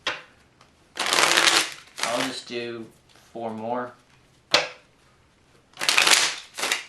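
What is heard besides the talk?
shuffling a deck of cards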